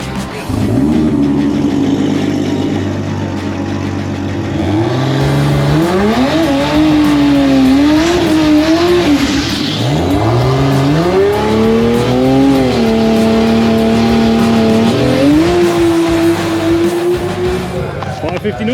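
A loud 2JZ turbo drag car on Kenda radial tyres roars and revs up hard on a test run, pitch climbing through gear changes as it accelerates, with a crowd murmuring underneath.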